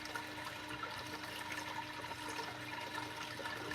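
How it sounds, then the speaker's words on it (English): Aquarium wave maker churning water in a tank, a steady, close rushing and splashing wash with a faint constant hum running underneath throughout. "Something like a wave maker such as this one will definitely be very much in line to what your animals are accustomed to."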